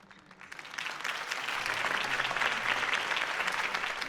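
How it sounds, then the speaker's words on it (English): A crowd applauds at the close of a campaign speech for Harvey Dent, the clapping rising quickly from sparse claps to a dense, sustained ovation that holds strong to the end. "If only Mr. Wayne, my campaign's largest backer, could have heard that applause"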